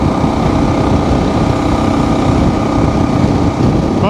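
A Kawasaki motorcycle engine drones steadily in top gear at riding speed, loud and close with a constant buzzing hum and wind rush, with no talking.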